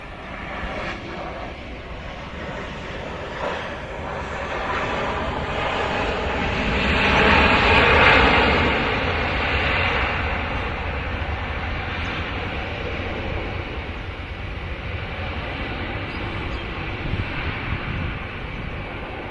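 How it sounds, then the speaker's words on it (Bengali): An Air India Airbus airliner's jet engine roar swells as it approaches to land, peaks loudly, then settles into a long steady rumble as it passes and rolls on. "বিমানটি খুবই চমৎকারভাবে ল্যান্ডিং করবে"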